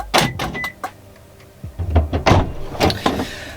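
A car door opening and closing as someone climbs into a newly bought daily driver, with close thumps, latch clicks and rustling movement, fairly loud in a short burst.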